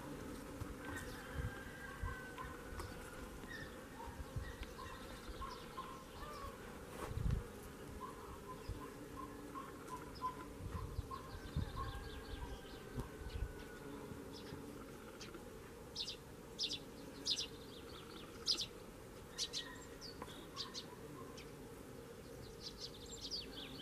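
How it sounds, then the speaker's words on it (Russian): Bees buzz steadily around a greenhouse on a warm morning, a dense, continuous hum with insects passing near and far and occasional louder fly-bys. "Тут тоже пчелки. Пчелки везде работают."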